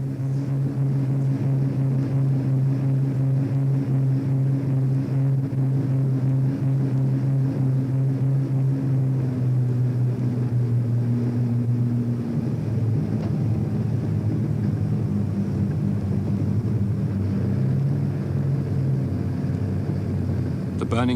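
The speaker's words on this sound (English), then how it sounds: "On the last reserves of fuel, the aircraft descends." A WW2 bomber descends on its final reserves of fuel, engines throttling back for the landing approach. A loud, steady droning rumble shifts lower partway through as the power comes off.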